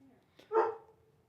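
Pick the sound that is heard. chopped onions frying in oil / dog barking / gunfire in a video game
dog barking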